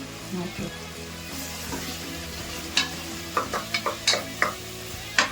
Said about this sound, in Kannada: ಇವಾಗ 1-2 ಕ್ಯಾಪ್ಸಿಕಮ್ ಕಟ್ ಮಾಡಿಕೊಂಡಿದ್ದೀನಿ, ಅದನ್ನ ಹಾಕೊತಾ ಇದ್ದೀನಿ.